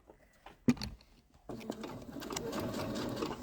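Quiet domestic sewing machine stitching fabric, starting after a short pause with a few faint clicks, then running steadily and softly close by.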